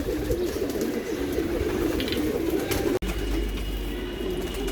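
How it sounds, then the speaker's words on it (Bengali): Male racing pigeons in a Dhaka loft call back and forth in a loud, dense, unbroken chorus of throaty cooing, briefly cut off once partway through. "এই দেখেন নর নরের সাথে ডাকাডাকি করে ঘোরাঘুরি করতে হচ্ছে"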